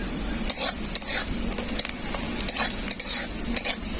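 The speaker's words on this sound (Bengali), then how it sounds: "পেঁয়াজ লঙ্কা এভাবে হালকা করে ভেজে নিয়েছি" Onion and green chilli stir-frying in hot mustard oil, a bright sizzle broken by repeated rhythmic scrapes and clacks of a spatula against the pan, close and with no talk.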